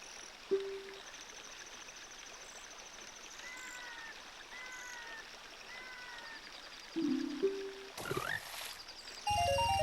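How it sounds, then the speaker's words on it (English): Frogs croaking underwater in the video game The Legend of Zelda: Ocarina of Time, short warbling croaks over a steady stream-like ambient bed, with brief game chimes and tones at the end. "Some frogs are looking at you from underwater."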